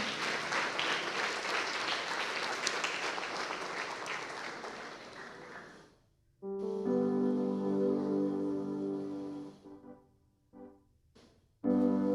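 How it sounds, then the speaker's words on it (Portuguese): A church congregation at a Sunday evening service claps loudly and continuously for about six seconds, then the clapping fades out and sustained musical tones take over, broken by brief silences. "Aleluia, aplauda o Senhor"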